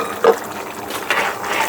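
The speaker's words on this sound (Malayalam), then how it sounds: "പക്ഷെ പോർക്കിൽ ഒരു ലേശം വെള്ളം ഒഴിക്കും." Water poured into pork simmering in a cooking pot for a village-style pork and koorka dish, a short splash followed by a steadier, hissing pour close by.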